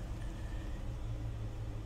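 A 2008 Chrysler Town & Country with a 4.0 engine idles with a low, steady rumble, a slight unevenness from a misfire running through the otherwise continuous hum, with no voices.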